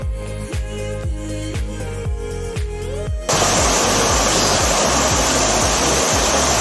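Roaring rush of a waterfall at the dead end of a mountain valley, preceded by a few seconds of rhythmic thumping and rustling before the loud, steady cascade takes over up close.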